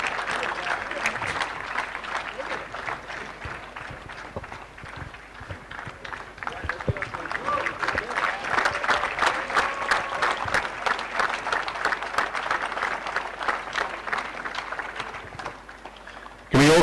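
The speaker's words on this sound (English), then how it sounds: "Big round of applause, ladies and gentlemen." A crowd at a women's tennis tournament trophy ceremony claps steadily for a long stretch, a thick, continuous patter swelling slightly in the middle before tapering off, with a sharp bump at the very end.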